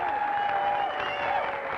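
A crowd applauds steadily and evenly throughout, a dense wash of clapping on an old 16mm film soundtrack, with a faint steady tone running underneath.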